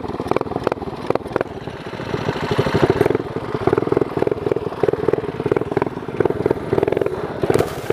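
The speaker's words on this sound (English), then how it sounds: "That exhaust is really throaty." A mini bike engine, either a 212cc Monster Moto or an 11hp Tecumseh, runs close by with a throaty, rapid-firing exhaust, a loud, steady chugging rhythm that swells briefly as the throttle rises.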